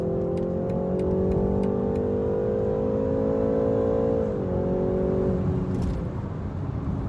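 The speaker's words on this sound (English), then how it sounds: "That is from a little 2-liter 4-cylinder engine in the base 3 Series." A 2019 BMW 330i xDrive's small 2-liter four-cylinder engine accelerating hard, with a steady, loud, rising drone heard from inside the car that dips briefly at a shift and then keeps pulling, with no one speaking.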